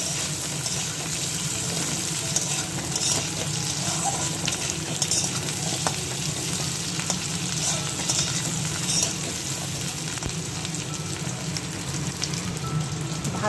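Boiled potatoes fry in hot oil with a steady, close sizzle and crackle that holds evenly throughout, with no voices.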